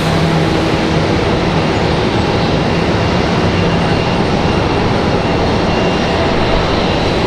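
Airliner jet engines roar steadily at Raleigh-Durham airport, a loud, dense and unbroken rushing drone from a nearby aircraft with no voices.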